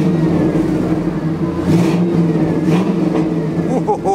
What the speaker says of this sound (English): let's rev it up, let y'all hear the engine a little bit